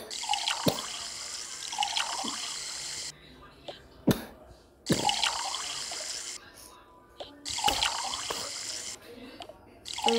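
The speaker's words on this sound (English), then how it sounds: "Here, I'm gonna fill it up with water." Water pouring into a cup in the Toca Boca video game, heard as bright splashy game sound effects that play in short bursts, with quiet pauses in between.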